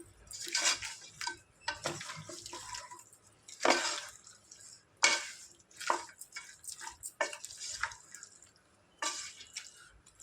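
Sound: stirring mutton curry with chili powder and tomatoes in pot

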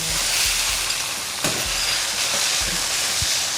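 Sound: tofu frying in a wok

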